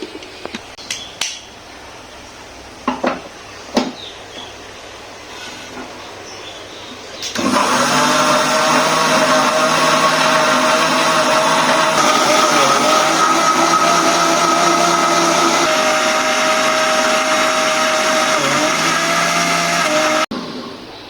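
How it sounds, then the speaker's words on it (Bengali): An electric blender whirs loudly for about thirteen seconds as it purees mango juice with green chili, salt, sugar and water, its steady motor drone starting abruptly after a few handling clicks and knocks, then cutting off sharply. "দেওয়া শেষ, এবার আমি ব্লেন্ডার করব।"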